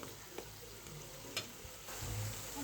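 Spice paste with tomato frying in a pan for a pangas fish curry, a faint steady sizzle with a few light scrapes of a spoon, quiet and close.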